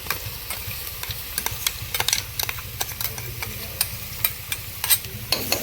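Crushed onion, garlic, ginger and green chilli sauté in hot oil for a chicken curry. A steady close sizzle runs beneath frequent sharp scrapes and knocks of a spoon stirring against the pan.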